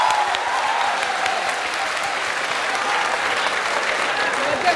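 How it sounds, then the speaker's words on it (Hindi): Sustained, dense audience applause fills a hall during a televised interview discussion, steady and loud throughout with no break. "भले ही तालियां बहुत उस समय बज रही थीं"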